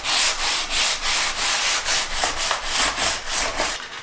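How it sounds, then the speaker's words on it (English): A thrift store vase is sanded by hand with 220 grit sandpaper wrapped around a sanding block, giving steady rhythmic back-and-forth rasping strokes, close and loud, about two strokes per second, with no talking. "I'm going to be using some 220 grit sandpaper. I'm going to wind it around the block."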